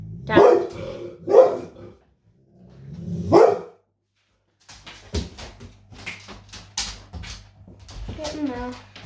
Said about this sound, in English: Excuse my dog. She likes to be vocal when the postman comes.